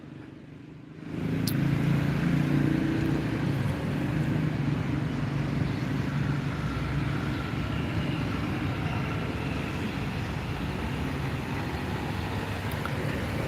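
A truck rumbles past outside a bus terminal, a steady low engine and road noise that starts abruptly and holds at a moderate distance.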